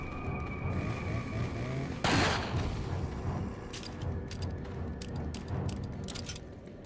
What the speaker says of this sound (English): A double magnum headshot.